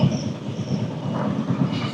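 A freight train rolls past nearby at a level crossing among mountains, a continuous heavy rumble of wagons with rhythmic wheel clatter and faint metallic squeal.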